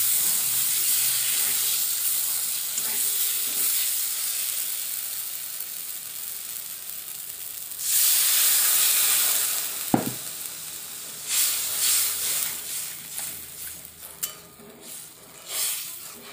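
Hot spiced masala, cooked down until the oil separates, sizzles steadily, then erupts into a loud hissing burst as water is poured in, followed by settling bubbling and scattered stirring clinks, with no voices.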